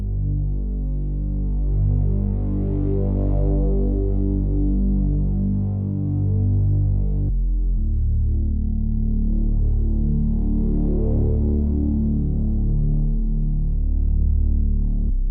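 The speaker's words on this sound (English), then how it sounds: "this is what the bass line sounds like." A low, humming synth bass made in FL Studio plays a simple sequence of sustained notes that step downward, steady and loud with no voices.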